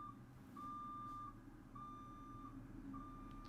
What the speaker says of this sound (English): You guys can hear the trash can, right?